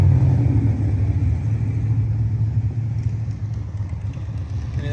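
Cars speed past a roadside truck repair shop in a steady low, rumbling drone of engines and road noise that eases slightly over a few seconds, with no voices.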